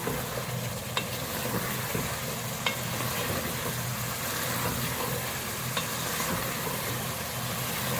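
Chicken sautéing in its gravy over a medium flame, a dense, even sizzle and hiss filling the whole stretch, with only a few faint spoon taps, close and without any talk.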